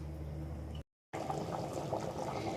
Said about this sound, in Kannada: ನೋಡಿ ಕುದೀತಾ ಇದೆ, ತಿರುಗಿಸ್ಲ.